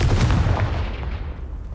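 A Confringo fire blast spell from the Hogwarts Legacy video game lands as one heavy, booming blast at the start, then fades into a rumbling, fiery tail.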